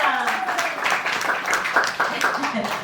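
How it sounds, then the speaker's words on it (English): A crowd applauds a performer portraying Abigail Adams at a school history event, a dense patter of clapping hands that stays steady and fairly close for a few seconds, with voices mixed in. "Round of applause for Abigail Adams."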